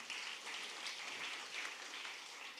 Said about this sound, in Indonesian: Yang mengerti tepuk tangan buat Tuhan kita.